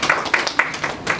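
A workshop audience gives a brief round of clapping to welcome a speaker, with a handful of distinct claps in quick, uneven succession over about a second.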